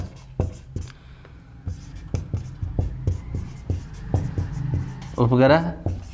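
Handwriting during a lesson on Saturn's moons: a steady series of light, close scratchy strokes and taps as words are written out, with a short burst of voice near the end.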